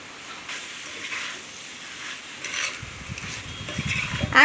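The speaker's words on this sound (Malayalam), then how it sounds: "എണ്ണയിൽ നമ്മുടെ ഈ ചിക്കൻ ചെറുതായിട്ടൊന്ന് പൊരിഞ്ഞു വരണം" Chicken frying in oil and being stirred produces a soft hiss with light scraping, then clattery utensil knocks growing louder toward the end, close by and without talk.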